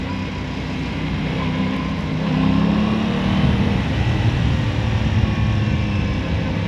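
Aprilia Tuono 660 roadster motorcycle engine droning steadily while riding, a continuous broad engine and road roar that swells slightly midway, with wind noise throughout.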